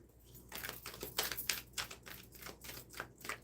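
Tarot cards being shuffled by hand, a quiet series of rapid riffling bursts and soft flicks in an uneven rhythm, close up with no talk over them.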